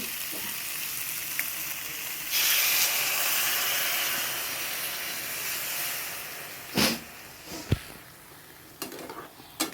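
Water poured into a hot pan of frying eggs bursts into loud hissing steam, then settles into a steady sizzle with a few sharp scrapes and knocks of a utensil against the pan near the end.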